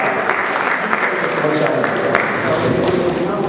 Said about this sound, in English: Let's give Patricia a round of applause.